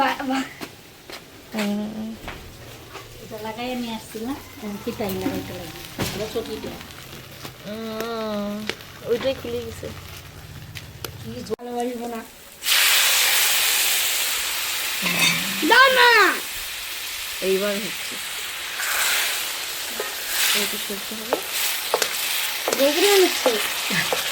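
Sago khichuri sizzles and is stirred in a pot on a wood-fired stove on a rooftop, with people talking throughout. A loud, steady frying hiss takes over midway.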